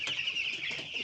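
Broiler chickens feeding in a poultry house, a steady close chorus of soft clucks and chatter running throughout the short moment without any speech.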